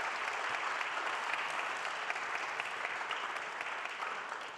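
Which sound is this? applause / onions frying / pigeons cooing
applause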